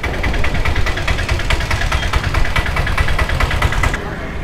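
A vehicle engine idles close by with a steady, throbbing mechanical rumble and a rapid regular pulse that holds until it drops away near the end, with voices faintly in the background.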